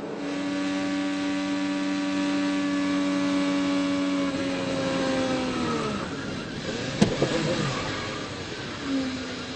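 Onboard IndyCar engine from the 2014 Indianapolis 500, a loud steady high-pitched whine holding for several seconds before the pitch drops and wavers, with a sharp bang near the end and the engine note settling again.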